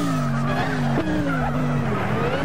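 The SRT Tomahawk Vision GT concept in Gran Turismo 6 brakes hard from high speed, its tires skidding and squealing steadily over a droning engine tone that drops in pitch as the car slows.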